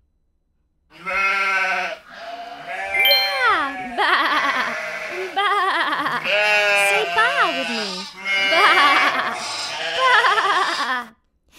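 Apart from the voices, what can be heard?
sheep bleating on a farm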